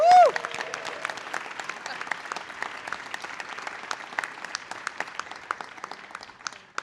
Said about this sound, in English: Can we give Andrew another round of applause?